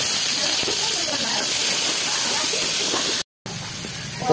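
Fried rice sizzles in a stir-fry pan, a loud, bright, continuous hiss of steam and spattering oil that breaks off briefly near the end and then resumes. There is no talking over it.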